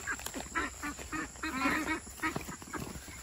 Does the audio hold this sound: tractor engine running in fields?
no